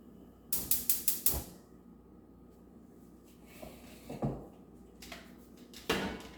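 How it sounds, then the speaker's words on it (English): Chopped vegetables are poured into a big pot on a stove: a quick run of five or six sharp clattering thuds at the start, then scattered softer knocks and a final louder clatter, nearby and without talk. "pour your vegetables into a big pot like that one"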